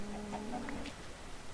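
A chicken in the Minecraft video game clucks a few short times, close and clear, then falls quiet over a faint steady background.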